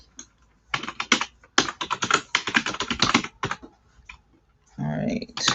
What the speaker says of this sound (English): I am typing in my tags